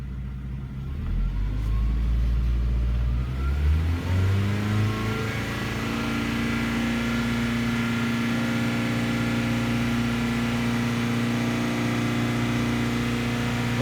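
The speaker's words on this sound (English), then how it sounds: "I'm going to accelerate, bring up the idle" A 1998 Ford Contour with a 2.0L engine idles, then revs up smoothly and holds a steady, higher engine drone for several seconds, close and continuous with no talk.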